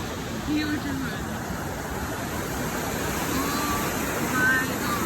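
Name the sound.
mountain river flowing in Switzerland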